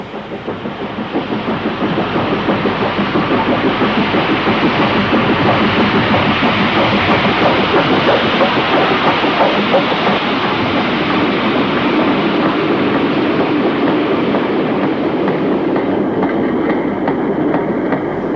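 A BR 9F steam locomotive hauls a train from Stanlow, a loud, steady rolling roar with rail rumble building up and holding close by for the full length, no voices.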